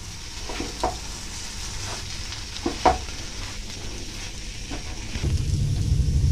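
Milk being stirred into a semolina paste in a pan, with a spoon scraping and sloshing in irregular strokes, a few sharper knocks, and a louder low rumble building toward the end.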